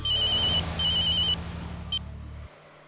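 A telephone rings in two long electronic trilling bursts and then a short third blip, each loud and close, over a steady low hum of background noise.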